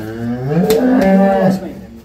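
A cow being inspected at a cattle purchase lets out one loud, close, drawn-out moo lasting about two seconds, rising and then tapering off.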